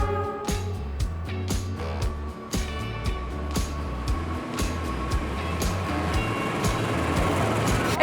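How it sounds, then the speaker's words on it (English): A train in Indonesia rumbles in to a platform with a low mechanical hum, punctuated by repeated sharp clanks and knocks as it draws closer; the noise gradually thickens. "Okay, the train is coming."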